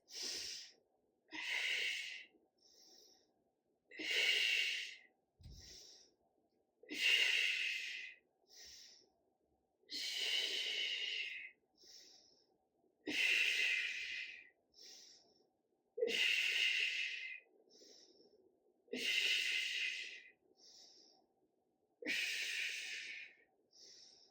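Deep, forceful breaths during a strength and stretching exercise, heard as about a dozen long, hissing inhales and exhales in a slow, steady rhythm, close and clear with quiet gaps between them.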